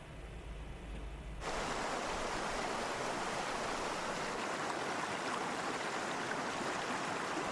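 A river stream rushes among rocks in a continuous, steady broadband wash that swells up loud after a quieter opening second or so, with no voices.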